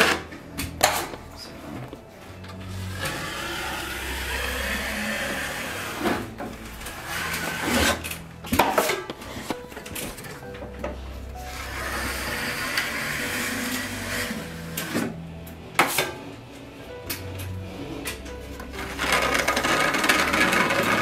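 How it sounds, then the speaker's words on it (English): Drywall joint compound and paper tape being worked into an inside corner under a textured ceiling, heard as steady scraping and rasping strokes with short knocks and pauses, close and fairly loud throughout. "That's how you tape a corner."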